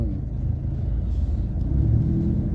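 A car engine gives a steady, low, close rumble with a slight rise toward the end as the car prepares to make a U-turn on a street lined with car-modification shops.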